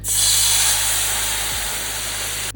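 Brandy hits a hot pan to deglaze it, bursting into a loud, steady steam-and-sizzle hiss that fades only slightly over a couple of seconds, with no talking.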